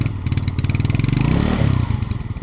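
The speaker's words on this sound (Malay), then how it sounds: "Jom kita dengar bunyi enjin dia." A Yamaha Ego motorcycle engine idles close by, its quick, even pulsing putter running steadily throughout with a slight rev in the middle.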